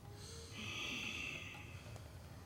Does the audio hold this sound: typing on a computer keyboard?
no